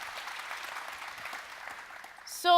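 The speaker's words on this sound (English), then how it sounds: "Big round of applause" An audience at a business panel on customer success claps for the speakers, a modest, fairly distant patter of applause that thins out before a sudden louder sound cuts in at the end.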